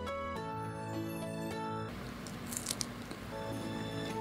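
Crisp bites into crunchy deep-fried fish karaage, fins included, give a few close crackling crunches partway through, set against a continuous musical background.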